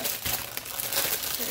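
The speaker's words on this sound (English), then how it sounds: "Sorry about the plastic crinkling." Plastic packaging crinkles and crackles continuously in a short close-up burst while a bakery-themed kit is being unwrapped, with no talk over it.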